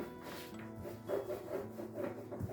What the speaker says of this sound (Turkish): Şöyle çevire çevire açıyoruz yufkamızı.